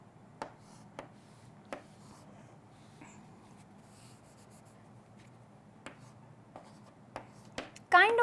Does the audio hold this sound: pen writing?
yes